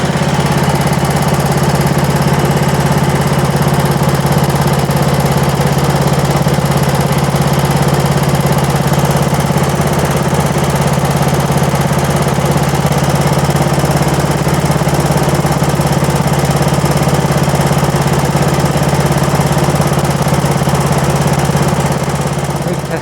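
A small Wheel Horse Raider 9 garden tractor engine runs steadily and loudly throughout, with a constant low rumbling drone and mechanical chatter, no voices.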